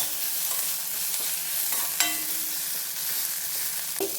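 Crushed garlic and spices frying in a pan on the stove while a spoon stirs through them, a steady soft sizzle with scraping strokes and one brief sharper clink near the middle.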